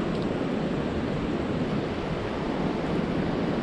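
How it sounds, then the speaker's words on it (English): A stream of water running across the sand at Ruby Beach, flowing hard with a steady, dense rushing wash that stays even and unbroken from start to end, with no voices. "So you see there's water running down here."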